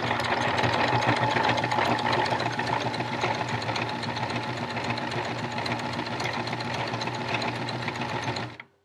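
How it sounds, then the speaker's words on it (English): Sewing machine stitching a fabric face mask, a steady close mechanical whir with rapid needle chatter that runs continuously before stopping abruptly. "then you're going to pick up your presser foot, turn it, and then sew straight down"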